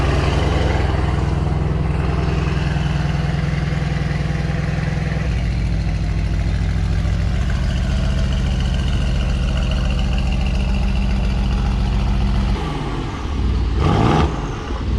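Mercedes C63s AMG twin-turbo engine fitted with catless downpipes, a loud close deep rumble with turbo spool building steadily, then a sharp whoosh and flutter near the end.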